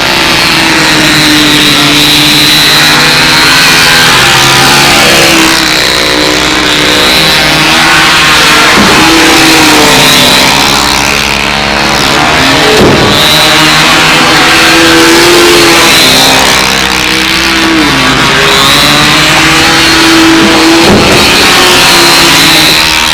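A model airplane engine runs at a windy 2001 Brodak fly-in, a loud, close, continuous buzzing whine that steadily rises and falls in pitch as the throttle changes.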